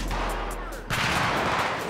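Gunfire in a Grand Theft Auto V shootout, a soft muffled stretch followed by a louder, denser burst of distant shots and rumble.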